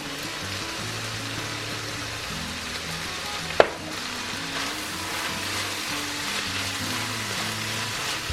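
Korean sundubu jjigae with pork, silken tofu and gochugaru sizzles steadily in the pot, a continuous close crackle with one sharp clink midway and soft background music underneath.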